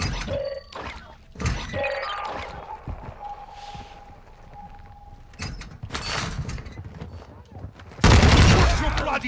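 Gunfire in the Call of Duty DMZ video game: scattered shots and bursts, with a loud heavy volley near the end, mixed with other game sounds and speech.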